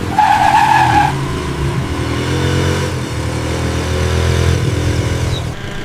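Small scooters and other vehicles moving along narrow Bermuda roads, a loud close engine drone with tire noise that holds steady throughout.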